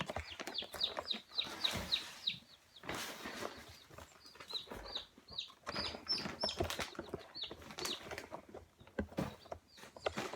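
Chicks peeping in a bedroom, a dense run of high, bright chirps and cheeps repeating throughout with occasional rustling and faint fluttering, close and fairly loud, with no talk.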